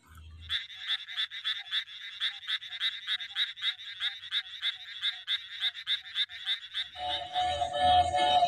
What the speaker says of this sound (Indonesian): di sini ada katak